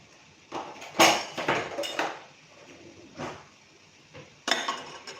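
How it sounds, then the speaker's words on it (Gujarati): Jowar dhokla being cut into pieces: sharp irregular knife clinks and taps on a hard surface, a few close strikes spaced over several seconds with quiet gaps between. "હવે આપણે કટકા કરી લેશું"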